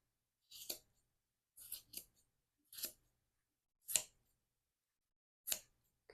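Scissors snip through yarn loops in five separate crisp cuts, spaced about a second apart, close and fairly quiet with silence between them.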